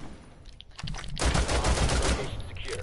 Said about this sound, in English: Why are you shooting the wall?